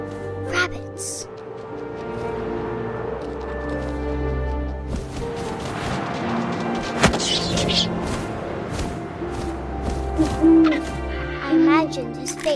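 An owl hoots in a video game scene, its low calls sounding over a swelling orchestral score and wind, with a few deep booming swells and brief higher accents as the music builds.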